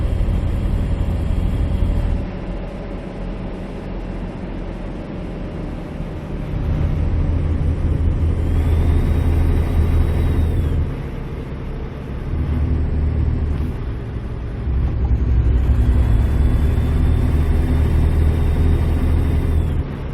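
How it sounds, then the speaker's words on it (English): Caterpillar diesel engine of a truck in American Truck Simulator drones steadily, a deep loud rumble that swells and eases as throttle changes, with faint whines over the low hum and no talking. "Gotta love that Caterpillar engine."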